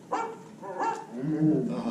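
A dog barks twice in quick succession and then gives a drawn-out whine, a staged show effect in Walt Disney World's Carousel of Progress at Magic Kingdom, heard close and clear.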